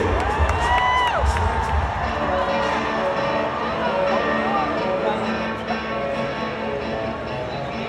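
An arena crowd at a PBR bull riding event in London, Ontario cheers and whoops loudly and continuously, with whistles and shouts rising over the din.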